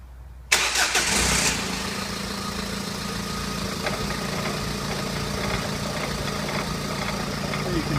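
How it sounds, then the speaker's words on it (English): A car engine cranks and fires into life in a workshop during an ABS fault diagnosis, a brief sharp starter burst settling into a steady, loud idle that runs on evenly. "start the car up and rotate the wheel"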